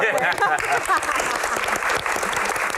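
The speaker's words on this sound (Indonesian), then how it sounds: "Tepuk tangan dong untuk para panelis kita malam hari ini" Audience applause for a panel of speakers at an evening Q&A session, a dense, steady wash of many hands clapping close by, with voices mixed in beneath it throughout.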